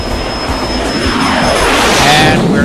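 A twin-engine Beechcraft Duke propeller plane climbs out after takeoff, its engines droning loud and steady with a rising propeller whine and a faint tone that shifts in pitch.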